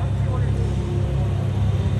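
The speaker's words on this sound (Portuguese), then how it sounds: "Vocês têm que ouvir o ronco desse carro. Sem acelerar, o ronco já é perfeito." A car at idle without throttle at the Interlagos circuit, giving a steady, deep low rumble that holds evenly throughout without revving.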